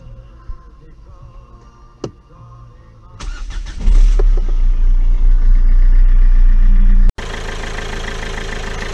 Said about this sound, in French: démarrage du véhicule, et on va contrôler qu'il n'y ait pas une fuite